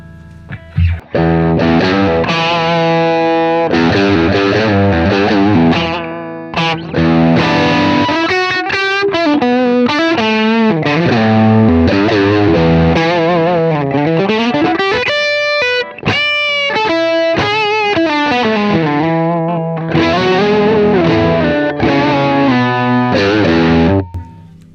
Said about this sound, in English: in the super lead mode here, we can get a very lead heavy kind of sound.